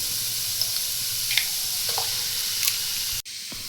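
Chicken kottu sizzles and fries steadily in a pan as an egg goes in, with a few soft clicks and stirring scrapes over the hiss before a sudden thud near the end.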